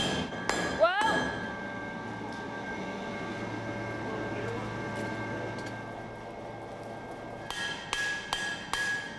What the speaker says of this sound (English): Repeated hammering flattens and hardens copper by compressing the copper atoms into a tighter configuration.